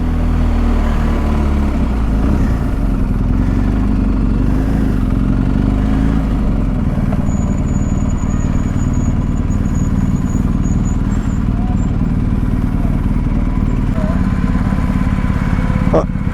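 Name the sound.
monkey bike motorcycle engine running loud with exhaust baffle missing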